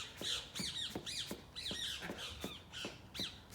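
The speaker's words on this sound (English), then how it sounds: "Some very loud birds out here today." Loud birds squawking outdoors in a rapid series of harsh, shrill calls, about ten in quick succession, close by over faint background noise.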